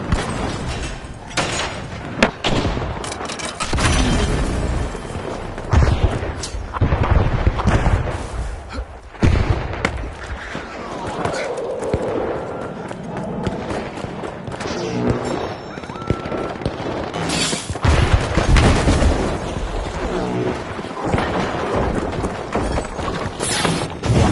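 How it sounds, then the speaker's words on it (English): Frag grenades going off in the shooter game The Finals, with repeated heavy booming blasts and thuds layered over a constant loud wash of gunfire and match action. "Frag grenade out!"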